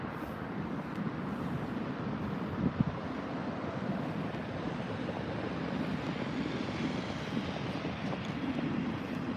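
A WestJet Boeing 787 jet departs Heathrow with a steady, broad roar that fills the whole stretch, distant and rumbling, mixed with wind buffeting the microphone.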